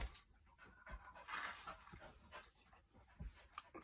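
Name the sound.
dog panting and whining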